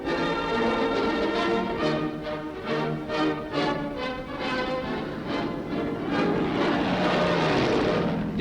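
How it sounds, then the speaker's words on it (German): German fighter plane flown by a general, a steady loud propeller engine drone with rising and falling harmonic tones throughout, continuous and close. "Der General fliegt selbst eine Jagdmaschine"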